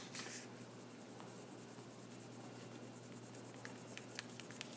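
A pen scratches across paper while drawing a heart design, faint steady rubbing strokes with a few short scratchy marks in a quiet room.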